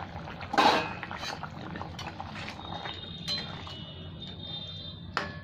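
A metal lid clanks sharply as it comes off a pot of boiling potatoes, followed by quiet bubbling and a few light utensil taps.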